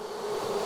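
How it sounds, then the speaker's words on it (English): A newly caught honey bee swarm gives off a steady, close, dense buzzing that holds even and continuous throughout, with no voices. "That is a new colony of bees for us."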